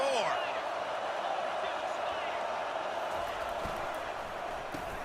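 A stadium crowd in a college football video game roars steadily in a broad, sustained wash of cheering, moderately loud and even throughout, with no clear speech on top.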